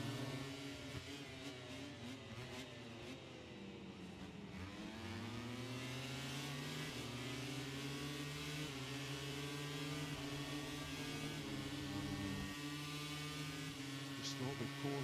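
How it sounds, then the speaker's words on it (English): A Ducati MotoGP motorcycle screams down a one-kilometre back straight at about 340 km/h during a Thailand sprint race, its steady high-revving engine note climbing in pitch with brief dips at gear changes. "let you hear a Ducati in full song at about 340 kilometres an hour down the 1 kilometre back straight"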